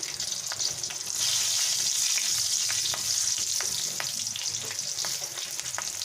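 Green chillies and black cumin seeds fry in hot oil, giving a steady, bright sizzle with scattered crackles and pops close by, and no voices.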